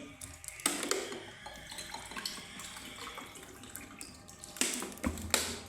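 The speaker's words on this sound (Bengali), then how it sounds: "এই যে আবারও কিন্তু আমি জল ঢেলে দিচ্ছি, এই যে পড়ে যাচ্ছে।" Water is poured out during a simple home experiment, making a close, splashy stream that runs steadily and then surges again near the end.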